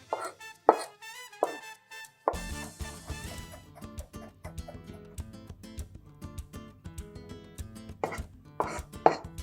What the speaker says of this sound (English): But the finer you mince it, the better the results will be.